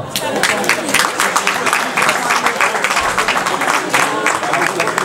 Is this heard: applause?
yes